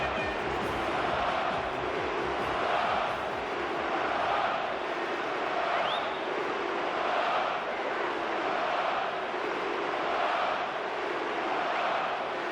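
Stadium crowd of football fans in a video game, a steady broad roar of cheering that swells and eases in slow waves, with no voices talking over it.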